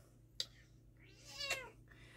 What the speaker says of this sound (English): this is our cat, Babs.